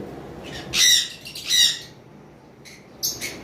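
Lovebirds give two loud, shrill squawks close by, followed after a pause by a couple of shorter, softer calls.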